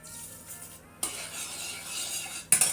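A spoon scrapes and swirls around the inside of a pot, with a brief metallic clink at the end; no talking.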